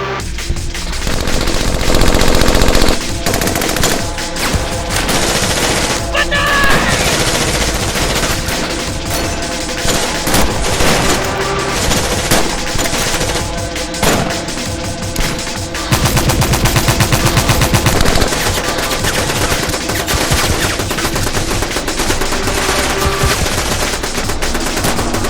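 Machine gun fire during an ambush, sustained and loud for the whole stretch, with dense overlapping rapid bursts and heavier thuds, and almost no voices above it.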